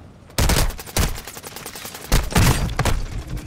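Rapid gunfire in Call of Duty: Modern Warfare II rings out in several loud, close bursts of automatic shots, with brief gaps between volleys.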